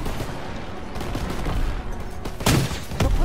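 Dense, continuous battlefield gunfire in Call of Duty WWII, overlapping rifle and machine gun shots over a constant rumble, with a louder close burst near the end.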